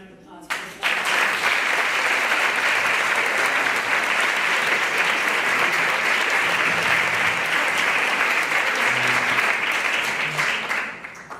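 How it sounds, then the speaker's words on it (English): An audience at an education luncheon panel breaks into sustained applause, a dense clapping roar that rises abruptly and holds steady for about ten seconds before fading. "How about a round of applause for this?"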